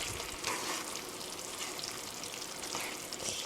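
Tofu and vegetables for mapo doufu are stirred gently in a pan, giving a soft continuous sizzle with faint scraping, quiet and close, with no talking.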